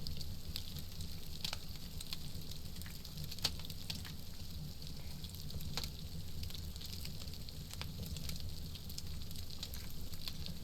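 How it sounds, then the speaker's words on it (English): Meat cooking over a fire in the survival video game SCUM gives off a faint, steady sizzling crackle with scattered small pops, continuous and low throughout with no talking. "I can still hear that meat sizzling if you listen close enough"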